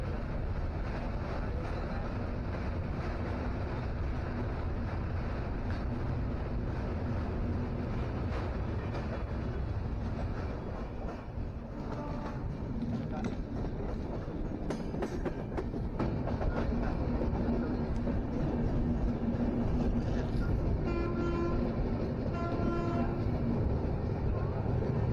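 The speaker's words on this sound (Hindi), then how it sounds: "तो ये देख सकते हैं निकल रही है ट्रेन दोस्तों धीरे धीरे काशी गंगा ब्रिज" The Farakka Express rolls slowly across the Kashi Ganga bridge near Varanasi, a steady loud rumble with faint rhythmic wheel clatter heard from on board, continuous for the whole stretch.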